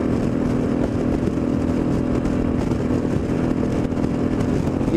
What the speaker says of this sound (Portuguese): Vamos aproveitar para dar uma voltinha de moto